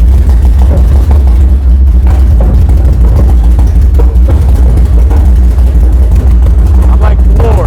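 V12 engine swapped into a Ford Mustang fires up and revs, a loud, continuous low rumble that dominates at close range, with people talking over it.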